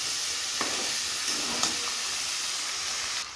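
Potatoes frying and being stirred into mutton keema in a pan, a steady close sizzle with a couple of soft scraping stirs, no talking.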